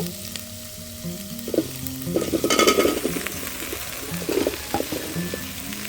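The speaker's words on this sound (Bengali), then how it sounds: "এখন আমি ঢেঁড়সগুলা দিয়ে দিব।" Fresh okra tipped into a pan of frying fish, the sizzle swelling into loud bursts of crackle and spatter as the pieces hit the oil, with stirring, then settling to a steady fry.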